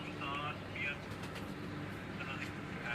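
Pigeons cooing at a pigeon keeper's compound in Nowshera Virkan, soft and intermittent beneath a steady background hum while someone talks throughout.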